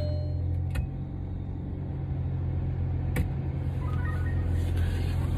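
A car engine rumbles low and steady from inside the cabin while driving, with a couple of faint clicks and soft background noise and no talk.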